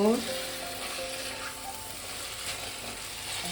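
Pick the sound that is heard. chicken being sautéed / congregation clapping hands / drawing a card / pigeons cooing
chicken being sautéed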